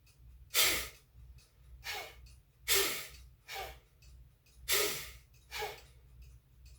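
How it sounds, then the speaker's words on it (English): Forceful exhales in a breathing exercise, six sharp breathy bursts spaced about a second apart, close and fairly loud, with a low hum underneath and no talking. "Starting with a full normal inhale, normal, and then the powerful exhale"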